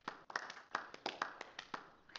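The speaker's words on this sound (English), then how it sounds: "So I thought we could begin with a round of applause befitting such a great man." Sparse applause from a small handful of people in the video game Beacon Pines, a few irregular claps spread across a couple of seconds, fairly close and thin rather than a full crowd.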